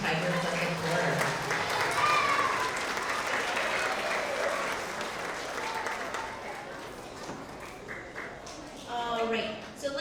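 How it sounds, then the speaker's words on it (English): An audience of children and adults at a K–2 school award assembly applauds second-grade honorees, a clatter of clapping that swells and then thins as an adult voice speaks over it. "Let's have another round of applause for our second grade Tigers of the Quarter."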